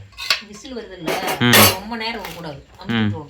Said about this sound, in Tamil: சரி கிளறி விடுங்க